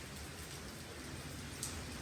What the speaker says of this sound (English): Look how the rain has even started to come and see through the ceilings.